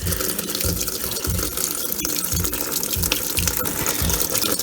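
Cold tap water gushes into the tub of a Kenmore laundry center washer during a regular cycle, a continuous loud rushing pour with no voices.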